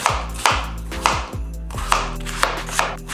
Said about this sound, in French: Nous avons 3 patates qu'on peut éplucher tranquillement puis couper en cubes